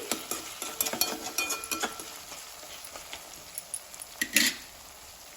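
Mutton fries in oil while being stirred, a soft sizzle under irregular scraping and clicking of a spoon against the pan, close and fairly quiet, with a brief louder clatter near the end and no speech.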